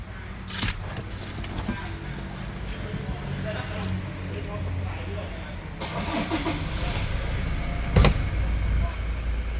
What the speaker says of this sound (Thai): ดี๋ยวไอ้ลองสตาร์ทรถให้ดูนะคะคันนี้